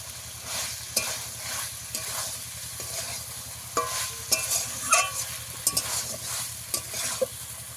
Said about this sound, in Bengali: এবারে দিয়ে দেবো ভেজে রাখা ঢেঁড়সটা, দিয়ে একটু কষিয়ে নেবো